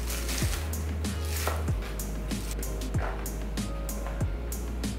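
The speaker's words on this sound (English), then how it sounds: "So the first thing we're going to do is chop up some green onions." Green onions chopped on a board for pork dumplings, a run of separate knife strikes at an uneven, unhurried pace, close and clear with no talking.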